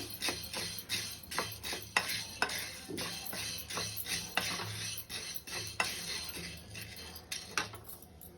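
A pan of tulasi hundalu fried and stirred closely so nothing scorches, with rapid scraping and clinking of a utensil against the pan, plus a soft steady sizzle running underneath.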